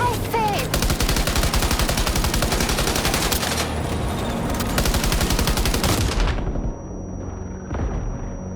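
Rapid, sustained automatic gunfire from the video game Death Stranding 2, loud and close, firing in a dense rhythmic burst for about six seconds before cutting off, followed by a few scattered softer shots and game ambience.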